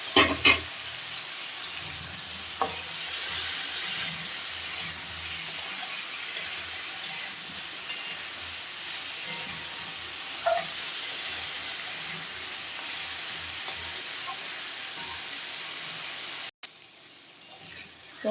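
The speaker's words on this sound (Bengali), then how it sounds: "আমি একটু নেড়ে দিলাম নিচ দিয়ে লেগে লেগে যাচ্ছিল" A pumpkin and potato curry, seasoned with salt and turmeric, is stirred in a pan where it has been sticking to the bottom: a steady close sizzle with scraping spoon clicks throughout, then a brief pause near the end.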